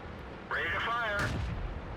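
A tank cannon fires in the World of Tanks video game, a single booming shot landing near the end of a brief tonal sweep, loud and close, with game sounds around it.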